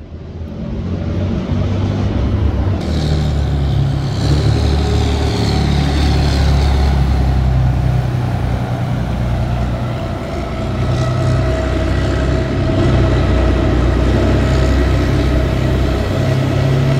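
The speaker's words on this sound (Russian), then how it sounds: "Главная машина почти любого парада в Москве – это пусковые установки ракетных систем Ярс-М." Heavy Yars-M missile launcher vehicles rumble past at the Moscow Victory Parade, a loud, continuous deep engine drone with tire roar that swells as the column moves by, no voices.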